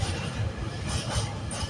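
A freight train hauling aggregate wagons rumbles past nearby, a heavy continuous low roar with rhythmic wheel thumps.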